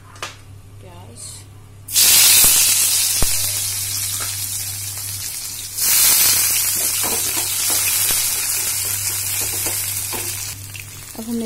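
Chopped onion hits a pan of cumin seeds with a loud, sudden hiss of frying, settling into a steady sizzle with a second surge partway through, a low hum running beneath and faint background sounds.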